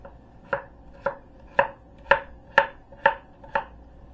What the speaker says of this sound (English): So we cut up 3 potatoes